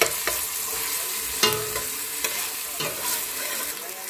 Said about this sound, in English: So we're just braising the onions,